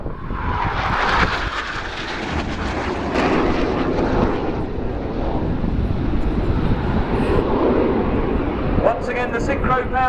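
Red Arrows display jets at an airshow pass overhead with a loud, broad roar that holds steady for the whole stretch while a commentator talks over it.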